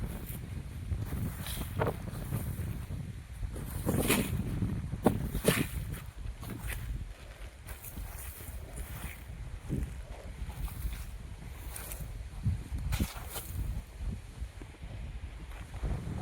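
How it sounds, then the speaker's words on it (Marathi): Outdoors in a field during planting, gusty wind buffets the microphone in repeated rough bursts of rumbling noise that rise and fall over a faint background, with no clear speech. "त्या वाऱ्यानं काय ऐकू बी ना झालंय"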